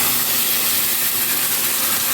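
White mustard and green chili paste dropped into hot oil with black cumin for a mustard bhola fish dish, a loud, continuous, broad sizzling hiss right up close, no voices.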